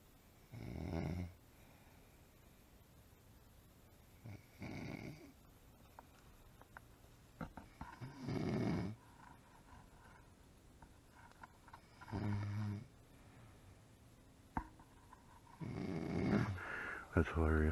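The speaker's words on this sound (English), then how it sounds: "if you start snoring again, I'll get over there" A person snores inside a tent while wild camping, several deep rasping snores a few seconds apart against steady outdoor background hiss.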